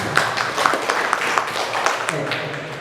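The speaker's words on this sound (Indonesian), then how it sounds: "tepuk tangan buat Bu Ratna" In a room at SMK Ma'arif NU 1 Wangon, an audience claps steadily in a moderate, close burst that lasts a few seconds. Speech is faintly audible among the clapping.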